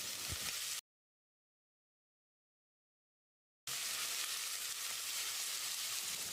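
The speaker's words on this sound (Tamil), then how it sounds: "வெங்காயம் லேசாக செவந்து வர்ற அளவுக்கு வதக்கிடலாம்." Small onions and curry leaves sauté in oil in a pressure cooker, a steady hissing sizzle broken by a silent gap of about three seconds, close up with no talk.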